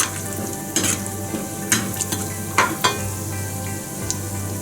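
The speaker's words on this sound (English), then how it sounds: "Friends, you can see the cashews are fried." Cashews fry in hot oil in a home kitchen pan, a steady close sizzle broken by a few scraping stirs and spoon clinks against the pan.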